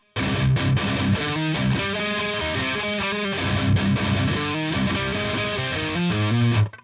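Distorted electric guitar plays a palm-muted metalcore riff from a song, with choppy chugging rhythms and muted stops, loud and close throughout with no voices.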